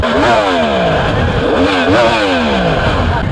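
Yamaha R1M superbike engine revving loudly and close, with rising and falling pitch sweeps from repeated throttle blips and steady engine roar throughout, no talk.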